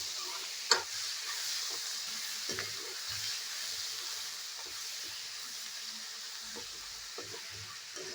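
Ginger, garlic and onion paste sizzling in a pan as it is stirred, a steady quiet hiss with occasional soft scrapes and clinks, no talking.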